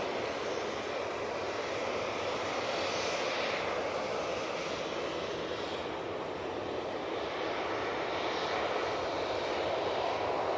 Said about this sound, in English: Next out, coming on via Victor Bravo, we have the Ryanair, which will be going to Alicante